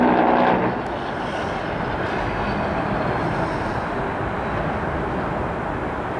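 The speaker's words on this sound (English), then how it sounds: "That's a short mixed freight train" A short CSX eastbound mixed freight train rolls past close by, a steady loud broadband rumble of wheels and cars that opens slightly louder and continues without a break.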